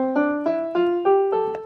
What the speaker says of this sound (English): that's the natural minor scale.